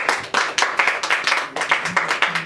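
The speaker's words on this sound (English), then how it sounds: "give a clapping ovation to him" Audience at a youth financial habits talk breaks into clapping, a dense run of hand claps sustained and fairly loud for the whole stretch without pause.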